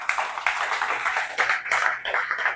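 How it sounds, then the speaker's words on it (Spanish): A church congregation claps together in a burst of applause, dense and steady with loud surges, close and filling the room, and no voices over it. "Dar un aplauso al Señor"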